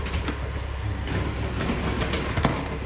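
A model train at the Tsuyama railway museum rounds a curve on its track, giving a steady close rolling rumble with scattered light clicks and no voices.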